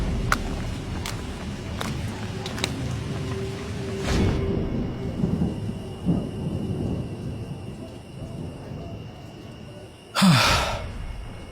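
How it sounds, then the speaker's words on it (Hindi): Unseasonal rain in a village, a steady wash of rainfall with a sudden loud thunderclap near the end, no talking. "ऊपर से ये बेमौसम बारिश"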